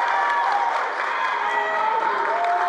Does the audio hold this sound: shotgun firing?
no